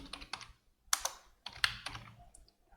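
Code typed on a computer keyboard, with quiet close clusters of key taps coming in short uneven bursts separated by brief pauses.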